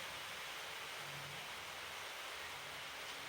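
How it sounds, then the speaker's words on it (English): Heavy rain pours outside during a workshop session, a steady, hissing broadband roar with no breaks, faint and continuous in the background. "It's pouring rain again. I'm sure you can hear that in the background."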